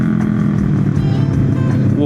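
Motorcycle riding along a road, its engine a steady loud rumble that feels heavier than usual, mixed with strong wind buffeting throughout, while a rider talks over it.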